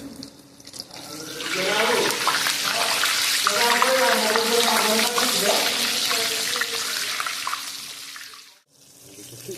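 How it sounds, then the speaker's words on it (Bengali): Hara bhara kebabs deep frying in hot oil give a steady, dense bubbling sizzle that holds for most of the stretch and cuts out briefly near the end, with a voice talking over it. "এই যে দেখুন আমরা এখন এটা ডিপ ফ্রাই করছি"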